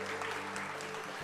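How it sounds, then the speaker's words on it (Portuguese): A church congregation at Igreja Verbo da Vida in Itabaiana, Sergipe, applauds together in a steady, dense wash of clapping that lasts the whole brief moment, with faint musical tones underneath. "Uma salva de palmas para eles."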